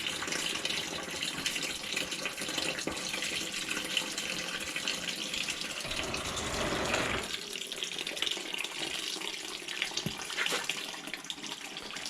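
Oil draining out of a Jeep 4.0L engine, a steady liquid pour and trickle with a brief heavier gush partway through, close and continuous, with no talk.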